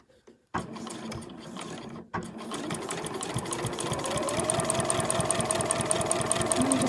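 An overlocker runs along a fabric edge, starting after a brief pause with a short stop near the middle, then a fast, steady mechanical chatter that grows slightly louder and holds to the end.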